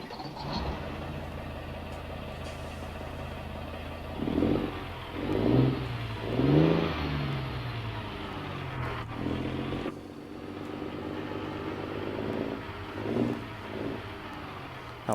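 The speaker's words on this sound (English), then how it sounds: "Get the windows down so you can hear this engine." A truck engine in American Truck Simulator idles with a low steady rumble, then revs several times in rising swells before settling, followed by a few more short revs near the end, heard up close from the cab.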